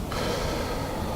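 A person drawing in air as part of a staged breathing exercise, heard as a close, breathy inhalation of about a second with no talking.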